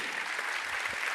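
An audience at a conference opening ceremony applauds, making a brief, even wash of clapping at moderate volume.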